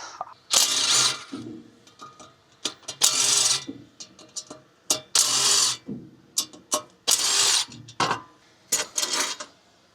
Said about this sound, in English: now I'm going to get a socket and take out these